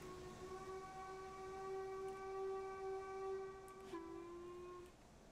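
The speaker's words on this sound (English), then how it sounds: "Blow the whistle for good measure." Steam locomotive whistle of a BR Black 5 in Train Simulator 2020: a single long, steady blast that shifts slightly in pitch near the end, heard alone and at moderate volume.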